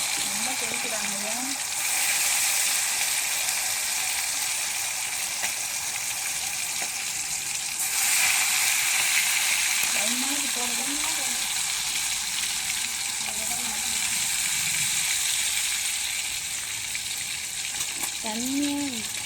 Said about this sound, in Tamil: எண்ணெய் நல்லா காஞ்சிச்சு, போட்டுக்கலாம். ரொம்ப தெரிக்கிறாங்க.